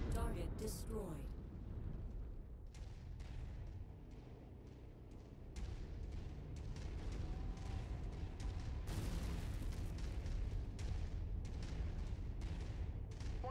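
Booming explosions of destroyed targets in the MechWarrior 5 video game rumble and crack in clustered bursts over a dense battle din, with a voice talking at times.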